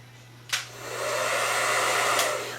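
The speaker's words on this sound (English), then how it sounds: "I'm just going to diffuse just a little bit." A handheld hair dryer running on the cool setting while diffusing curly hair: a click, then a rising, steady airy whoosh with a constant low hum, another click near the end, and no talk.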